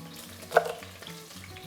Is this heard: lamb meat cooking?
yes